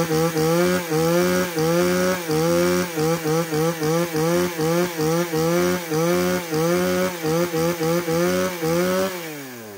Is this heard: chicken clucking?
no